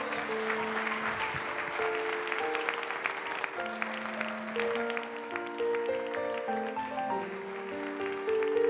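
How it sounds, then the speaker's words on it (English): A crowd claps and cheers in a dense, steady wash throughout, with sustained musical tones or horns ringing above the applause. "When they saw us, they all applauded."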